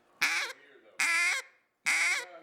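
A single-reed Hobo Duck Calls duck call blown to imitate a fine hen's quacks: three loud, evenly spaced nasal quacks, each short and clear, with brief silences between them.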